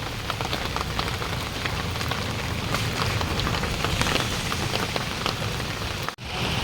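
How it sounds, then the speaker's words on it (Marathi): Heavy monsoon rain pours down during flooding in Chiplun, a dense, loud, continuous hiss of rain hitting surfaces that holds steady for several seconds, with no voices. "आज पावसाने अजून जोर धरला आहे"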